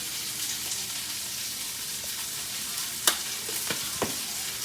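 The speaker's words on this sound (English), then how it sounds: "So my onion is cooking." Onion frying in a pan gives a steady, close sizzle, with a few sharp clicks and scrapes of a utensil against the pan near the end.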